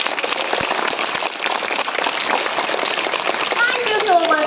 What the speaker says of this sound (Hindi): एक बार अपनी तालियों की गड़गड़ाहट के साथ इस शुभ दिन का स्वागत करेंगे हम सब।